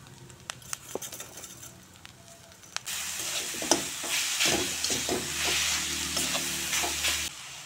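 Grated coconut filling being stirred and fried in a pan, scattered scrapes and clinks at first, then a steady loud sizzle with rhythmic stirring scrapes once sugar goes in, heard up close.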